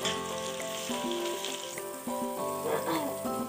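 Onions poured slowly into hot oil for a meat curry, frying with a loud, continuous sizzle and crackle that flares as they hit the pan.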